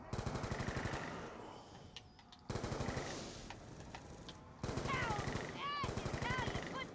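Rapid bursts of AN-94 rifle fire in Black Ops 2 Zombies on the Die Rise map, three loud sustained volleys separated by short pauses, with game effects chiming between them.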